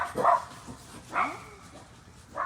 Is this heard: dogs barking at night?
yes